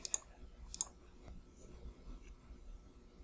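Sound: computer mouse clicks

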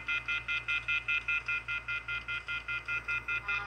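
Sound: beep

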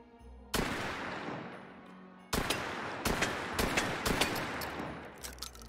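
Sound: gunshots at a target, from the VR video game Hot Dogs, Horseshoes & Hand Grenades

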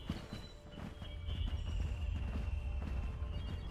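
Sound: footsteps in snow in the video game Rune 2

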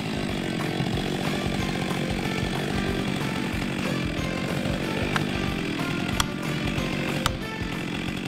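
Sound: Stihl MS 462 chainsaw with 72.2 cc engine cutting wood

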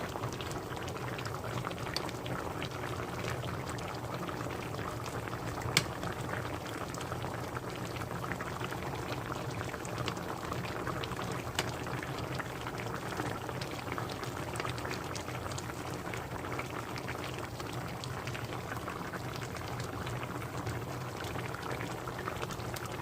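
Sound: braised tofu with pollock roe simmering in a pot

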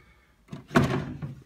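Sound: chest of drawers being opened

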